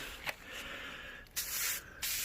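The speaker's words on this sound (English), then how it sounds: "I shall spray these." Three hissing bursts from a garden sprayer, one short and two longer, close by with quiet pauses between them.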